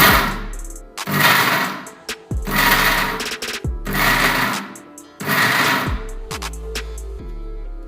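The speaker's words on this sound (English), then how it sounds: "now I am going to grind these ingredients just in the similar way as I told you" Mixer grinder grinding homemade protein powder ingredients in short pulses, four or five loud whirring bursts separated by brief stops, each ending with a clunk, then a quieter rattle at the end.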